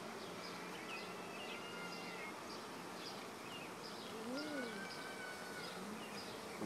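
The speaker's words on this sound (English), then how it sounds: "there are a lot of bees" A dense, steady drone of many honey bees buzzing close by at an opened hive, continuous throughout, with faint bird chirps scattered in the background.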